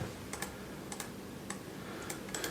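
Soft, close computer keyboard typing, entering router commands in Cisco Packet Tracer, with scattered individual keystrokes and small clusters of clicks over a quiet background.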